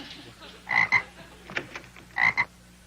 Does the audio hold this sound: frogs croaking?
yes